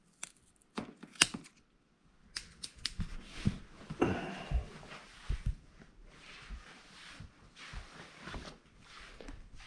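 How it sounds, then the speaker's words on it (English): Sharp snips and crisp cutting clicks as a houseplant vine is trimmed indoors, several separate cuts spread through the clip with soft handling rustle between them, close and fairly quiet. "I am just going to go through and make a couple cuts in the vine."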